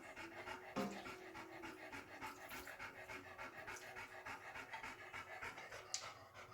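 A dog pants rapidly and steadily in a home kitchen, a close, rhythmic run of quick breaths with no talking over it.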